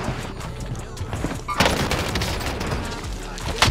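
Sustained bursts of automatic gunfire from a Call of Duty: Warzone match, dense and loud with a sharp rise in intensity midway, crackling continuously with booming impacts underneath.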